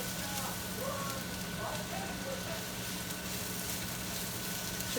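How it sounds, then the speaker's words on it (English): Food sautéing in a hot skillet with a little grapeseed oil, a steady soft sizzle and crackle running evenly through, fairly quiet with a low background hum. "we're gonna go ahead and saute this until it becomes a translucent"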